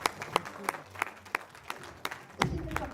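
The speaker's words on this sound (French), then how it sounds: "Nous en donnons l'applaudissement pour Arnaud." Scattered, sparse handclaps from a small audience at a mentalism and magic show, about ten distinct claps spaced irregularly and fairly quiet against a hushed room.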